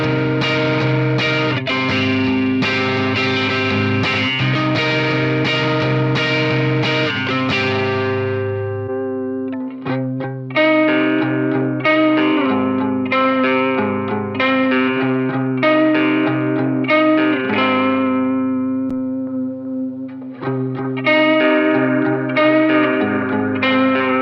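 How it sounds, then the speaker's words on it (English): Electric guitar played through a retro reel pedal, Wampler Doctor and Mua Reverb R7 into a JCM 800 amp, ringing sustained chords and picked notes with echoing, chorused, reverberant tails, pausing briefly before new phrases. "I'm going to use the retro reel in this, into the Wampler Doctor, and then into the Mua Reverb R7"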